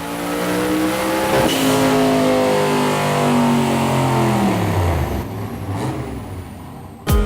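Drag racing car engine roaring loud and close, a sustained high-revving bellow with pitch sweeps as it revs up and falls away, ending in a brief sharp burst.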